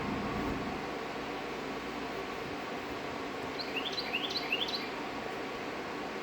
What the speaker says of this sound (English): It's a bluebird.